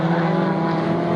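At Snetterton a race car, among MR2, RX-7 and BMW entrants, brakes hard into a corner with a loud, close engine drone whose pitch shifts over a brief moment, and no talk is heard.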